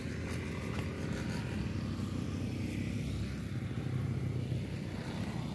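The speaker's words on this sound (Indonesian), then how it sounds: "Motor." A motorcycle's engine drones steadily near a garden and rice field, a continuous low rumble with a faint hiss that stays at an even loudness throughout, with no voices.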